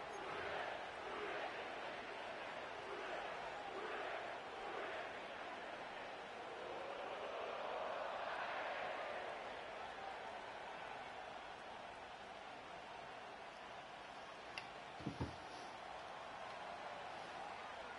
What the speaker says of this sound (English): sellout crowd has arrived at Acor Stadium in Cincinnati